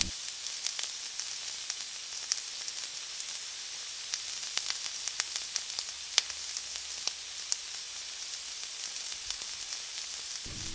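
Ivy gourd pieces fry in hot oil over a medium flame for a crispy dondakaya fry. A faint, steady sizzle carries scattered sharp crackles and pops, with no talking.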